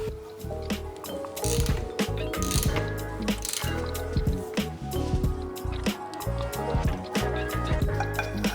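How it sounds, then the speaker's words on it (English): Ratchet wrench undoing con rod bolts on a Volvo V70 2.5T engine, with rapid repeated clicking and metallic ratcheting bursts close by, in uneven runs throughout. "I'm just going to undo these bolts from the con rod one by one"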